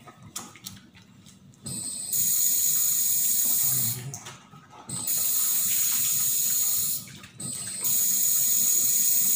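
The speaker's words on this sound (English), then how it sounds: "dapat din po gamitin yung running water" Tap water runs steadily into a sink for handwashing, starting after a quiet moment and briefly cut off twice, a close, loud and continuous splashing flow.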